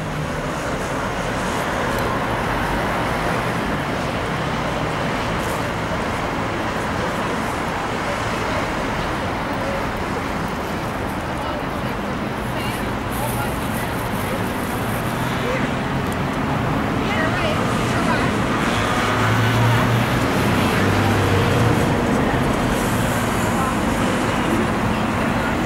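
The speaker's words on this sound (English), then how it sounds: "Why it's so much traffic, because all the roads are blocked off." Heavy road traffic backs up on streets where roads are blocked off, making a continuous dense roar of engines and tyres that holds steady for the whole stretch, with indistinct voices mixed in.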